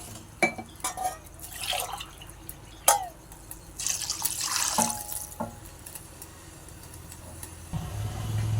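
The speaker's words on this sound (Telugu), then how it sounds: "వాటర్ వేసుకోవాలి. 1 గ్లాస్ రవ్వకు 2 గ్లాసులు వాటర్." Water poured into a pan of fried onion, chilli and tomato for upma: scattered clinks and drips, then a rushing pour building into a low bubbling hiss, fairly quiet and close.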